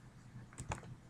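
Two quick clicks from a computer mouse, close and fairly quiet, set over a soft room background while selecting items in a design program.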